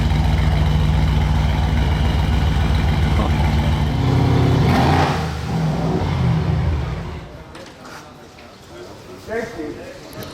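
A Mansory G-Class 6x6 truck at the Monaco Yacht Show runs its engine with a loud low rumble that rises, holds, then fades away over about ten seconds while people talk nearby.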